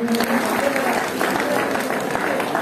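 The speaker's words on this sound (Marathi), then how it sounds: "सर्वांनी टाळ्यांच्या गजरामध्ये स्वागत करायचं आहे. आपल्या टाळ्यांचा आवाज आला पाहिजे." Audience at a Buddhist Mahasabha Dhamma conference in Navi Mumbai applauding to welcome a speaker, dense sustained clapping from a crowd, loud and continuous throughout, with a voice talking over it.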